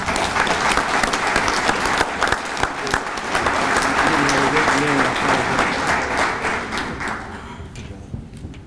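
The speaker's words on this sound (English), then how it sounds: "let's give Corporal Hibbs another round of applause" An American Legion audience in Indiana gives sustained applause for a corporal being honored, dense and loud clapping that tapers off toward the end, with faint voices underneath.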